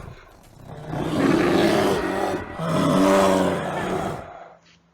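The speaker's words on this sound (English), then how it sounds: "Bears growl, grrr, grrr." A bear gives two deep, rumbling growls close by, each lasting about a second and a half, separated by a short dip and trailing off into near silence.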